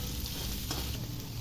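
Sliced okra frying in oil in a pan while being stirred, a loud continuous sizzle with a soft scrape of the spoon partway through.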